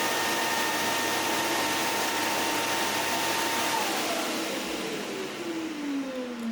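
Roborock robot vacuum base auto-emptying the onboard dustbin into a 3.2-liter dust bag with a more powerful suction system, a loud, continuous roaring whoosh whose pitch slowly drops near the end.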